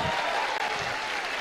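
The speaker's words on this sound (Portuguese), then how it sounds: "Mais uma salva de palmas" A brief, steady wash of audience applause at a political congress panel on public security, dense clapping from a crowd heard at moderate level without pause.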